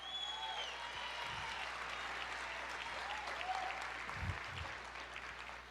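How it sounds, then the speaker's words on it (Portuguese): A church congregation applauds during worship, sustained clapping from many hands at a low, distant level with faint voices and low thumps beneath. "Aplauda o Senhor"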